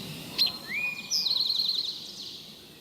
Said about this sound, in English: Eastern towhee, not a neotropical migrant.